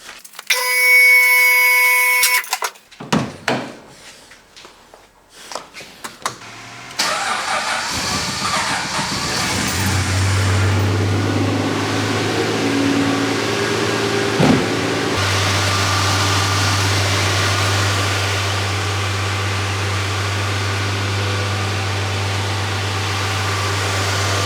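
A Valiant VJ hardtop's engine cranks, catches and settles into a steady, loud, low idle that runs on for the rest of the clip after some clattering noises at the start.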